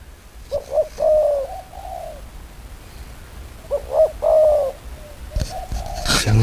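A dove at a Thai cooing contest gives two clear, rolling coo phrases a few seconds apart, close and fairly loud against a quiet outdoor background, followed by a brief burst of clatter.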